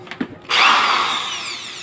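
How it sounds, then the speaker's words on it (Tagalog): A sharp click, then an electric drill starts and runs loud and steady, its high whine biting into metal as it drills out the rivets of a washing machine motor. "Ngayon, kalasin po natin gamit ang barena."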